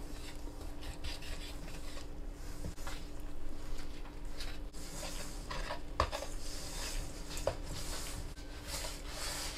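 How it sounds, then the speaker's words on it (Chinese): Chopsticks stir milk oat flour dough with poured-in water in a mixing basin, a steady scraping, rubbing texture with occasional clinks against the bowl, close and continuous. "我们把300cc 的水把它倒进来，然后把它搅拌成大面絮状"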